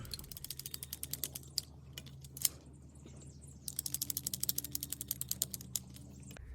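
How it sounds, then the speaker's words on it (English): A ratcheting PVC pipe cutter clicks rapidly in two bursts as it bites through a soaker hose, close and fairly quiet, with a short pause and a single louder snap between them. "So this is a pipe cutter for PVC pipe, but I use it for soaker hoses also."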